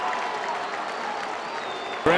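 Baseball crowd at an MLB game cheering loudly for the Sox manager during a dispute with an umpire, a steady broad roar of the stands that holds for two seconds before a sharp louder burst at the end.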